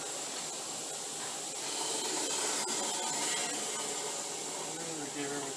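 An aerosol spray can coats a vehicle's frame and inner braces with rust-protective coating in a home garage, giving a steady, soft, close hiss that runs unbroken for several seconds.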